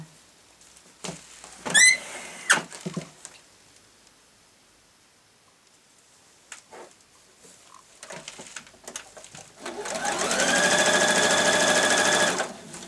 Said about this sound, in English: I'm going to sew the two together across the top like so.